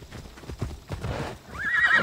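Horse in Assassin's Creed Odyssey, hooves clip-clopping in a steady gallop rhythm, then a loud rising neigh and whinny near the end, close and clear over faint game ambience.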